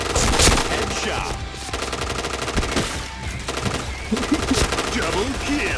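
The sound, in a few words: gunfire headshot in a shooter video game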